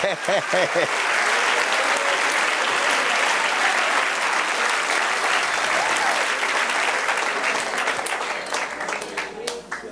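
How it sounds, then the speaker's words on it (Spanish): Congregation applause during a Spanish-language church service, a dense, loud wash of clapping sustained for nearly the whole stretch after a brief spoken opening, slowly thinning toward the end. "Denle un aplauso al Señor."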